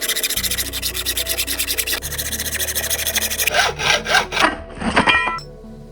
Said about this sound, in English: Mark and start a cut on both faces of the angle.